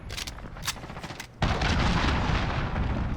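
A cruise missile strike lands in the Modern Warfare shooter: after a quieter stretch of distant gunfire, a sudden heavy explosive roar erupts and rolls on as a dense, sustained rumble.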